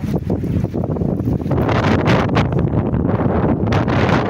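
Strong wind near the sea on an island roars and buffets against the microphone, gusting louder midway, a dense rushing noise with no voices.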